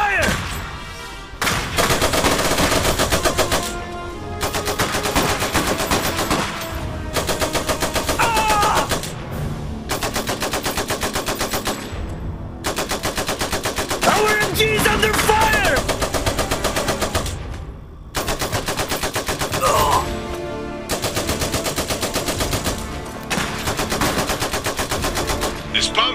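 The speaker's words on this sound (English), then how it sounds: "MG taking fire!" Sustained bursts of machine gun fire in the real-time strategy game Iron Harvest, loud and rapid, broken by brief pauses and mixed with battle explosions and game effects.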